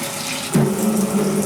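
Tap water runs hard into an empty soup pot for beef oxtail soup, starting with a soft trickle and then turning into a sudden full, steady gush near the microphone, with no voices.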